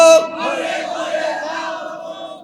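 Large crowd at an Islamic sermon shouting a takbir chant in unison, a loud sustained roar of many voices following a lead caller, reverberant over a PA system.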